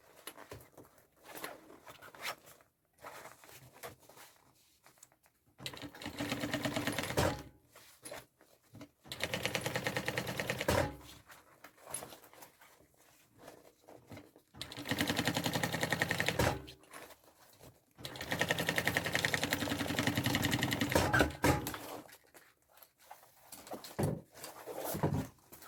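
A sewing machine stitches the other side of a bag, fastening the lining along the zipper, in four steady bursts of stitching separated by short pauses, close and fairly loud, with no talking.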